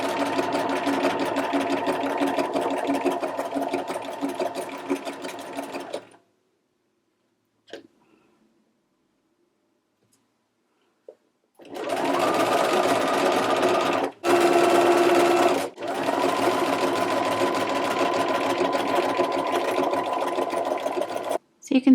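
A sewing machine fitted with an overlock foot stitches an interior neckline seam, wrapping the fabric edge. It hums steadily for several seconds, falls silent, then runs again in longer bursts with brief pauses.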